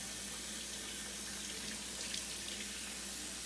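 Tap water runs in a steady, even stream as a wig is gently rinsed, the flow held down the hair shaft, fairly faint and unbroken with no voices.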